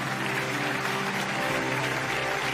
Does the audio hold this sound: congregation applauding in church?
yes